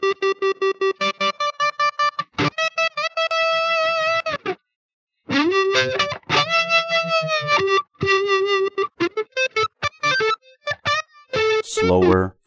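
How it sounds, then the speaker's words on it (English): A distorted electric guitar plays choppy chords and notes, its volume pulsing rapidly on and off in a steady tremolo, with a short pause midway. "we have the other type of tremolo"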